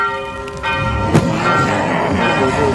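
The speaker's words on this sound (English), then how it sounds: "what was that noise? Why is the bell going off" A bell rings out in a horror video game, one loud struck tone with a long ringing decay over a noisy game background.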